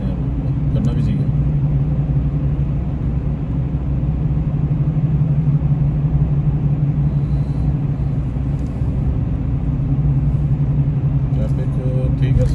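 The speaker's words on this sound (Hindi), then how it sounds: "ट्रैफिक ठीक है, स्लो है मगर चल रहा बढ़िया, गाड़ी रुक नहीं रही।" Steady low rumble of a car moving slowly through heavy traffic, continuous engine and road noise heard from inside, loud and unbroken.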